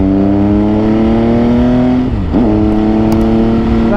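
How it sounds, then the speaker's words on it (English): A loud MV Agusta motorcycle exhaust revving up close, a steady high engine drone that dips sharply mid-clip before climbing back to a sustained roar. "That's a loud exhaust here."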